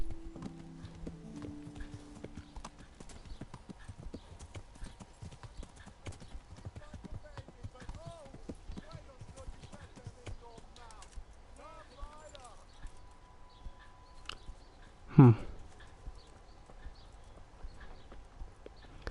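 A horse gallops in the video game Kingdom Come: Deliverance, quick, steady hoofbeats clopping along at a fast pace, fairly quiet, with one sharp thump near the end.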